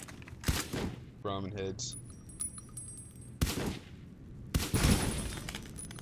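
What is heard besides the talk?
gunfire in the video game Fallout: New Vegas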